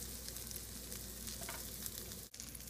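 Fish sticks frying in hot oil in a pan, a steady dense sizzle and crackle that continues throughout at close range, with no talking.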